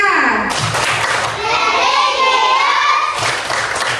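Children in a third-grade class clap together in a quick rhythmic pattern while voices chant and shout along, loud and close.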